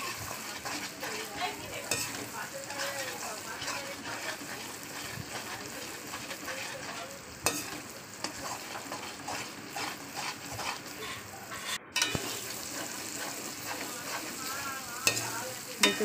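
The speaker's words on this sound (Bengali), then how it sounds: "মশলাটা ভালো করে আমি তেলের সঙ্গে ভাজা করে নেবো যতক্ষণ আমার মশলা থেকে তেল ছেড়ে আসছে।" Spices fried in oil and stirred while being cooked down for a potato curry, with a continuous soft sizzle and scraping stirs throughout, fairly quiet and close.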